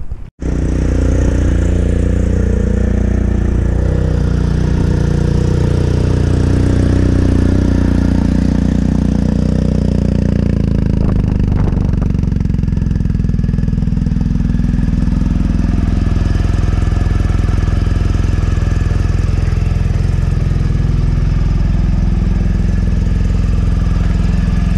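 A motorcycle engine idles continuously, loud and close, with a steady low throbbing rumble that runs without a break for the whole stretch and has no voices over it.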